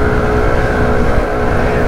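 A Daytona Mista 150 motorcycle, also sold as the Dayang Vorei 150, accelerates on tarmac, its engine note a steady, loud, continuous drone held close throughout, with no talk over it.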